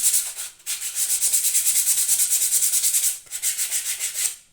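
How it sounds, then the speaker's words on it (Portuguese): Sandpaper rubbed over a cell phone holder in fast, even back-and-forth strokes, loud and close, with two short pauses between runs. "na dúvida, vamos lixar essa peça"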